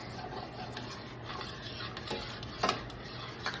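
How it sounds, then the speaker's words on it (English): Apple cider vinegar and stone-ground mustard glaze being stirred in a pan, a quiet continuous simmer with soft scraping and a couple of light utensil clinks. "I'm gonna just stir that in and let that cook down for about a minute"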